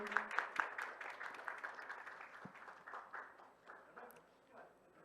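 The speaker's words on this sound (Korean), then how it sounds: "큰 박수로 축하해 주십시오." Clapping breaks out for the signing of a joint research cooperation agreement at an open cloud platform ceremony. Sharp hand claps come first and thin out into a faint, fading patter, with voices talking over it.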